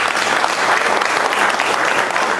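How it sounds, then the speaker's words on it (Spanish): An audience applauding the speakers at the end of a panel session in Tumbes, Peru: dense, steady clapping from many hands filling the room, with no talk over it. "fuertes palmas para ellos"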